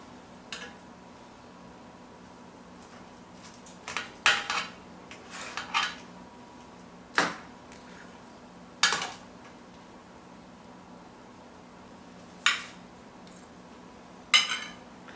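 A knife and dishes being handled while plating a roasted chicken breast stuffed with goat cheese and orange cranberry chutney: a string of sharp, isolated clinks and taps, with quiet gaps between them and no talking.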